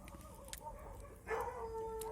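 Chickens cluck faintly at a private home in the countryside, soft low clucking followed by a slightly louder drawn-out call, heard at a distance over quiet background.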